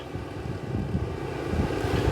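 Wind gusts outdoors at a well-drilling site, a steady low rumble buffeting the microphone that swells gradually louder toward the end, with no talking.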